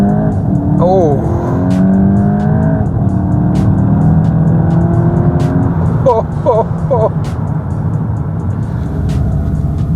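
A 2026 VW Golf 8.5 GTI engine revs loudly and steadily from up close inside the cabin during a launch, with a constant engine drone, brief chirping tones and a voice speaking over it.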